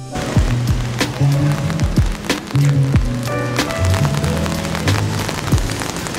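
Steady rain falls at night in a Japanese city, a dense continuous patter close by with scattered sharper drips and drops, while low rumbles and occasional clatters of street activity sit underneath.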